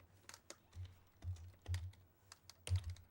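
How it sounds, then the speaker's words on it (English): Typing on a computer keyboard, with scattered, irregular key clicks and heavier thumps, quiet and close, heard with no talk. "I'm typing this all in incorrectly."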